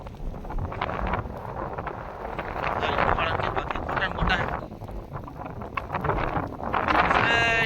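Strong wind gusts and rain sweep through a village in a dense, steady roar, with gusts buffeting the microphone close by and no quieter gaps.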